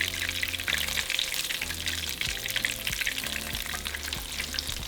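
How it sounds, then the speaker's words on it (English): Crunchy shrimp and potato tacos dorados fry in hot oil, a loud, dense crackling sizzle that runs continuously and close, with faint low knocks from the pan underneath and no voices. "once our oil is hot, we're going to throw in our tacos"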